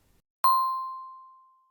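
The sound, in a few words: bell chiming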